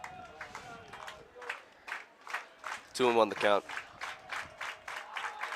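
Scattered applause and crowd noise rise around a college baseball game between La Crosse and Stevens Point, with a brief louder burst mid-clip, mostly under an announcer talking over the play.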